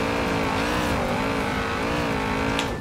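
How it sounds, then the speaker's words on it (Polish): Lamborghini Urus engine in Forza Horizon 4, a steady loud drone with rising and falling harmonic bands as the revs shift, continuous throughout with no voices. "Ale trzeba przyznać, że bardzo fajnie brzmi ten samochód"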